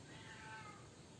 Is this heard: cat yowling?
yes